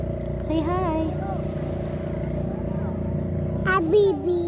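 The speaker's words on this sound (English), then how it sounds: "Look at the boat. It's sailing on the sea." A boat engine on the sea hums steadily at a beach under a voice and an adult speaking, with a continuous low drone throughout.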